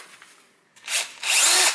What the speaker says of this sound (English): now I have in here my electric drill, and I am planning to do a couple of holes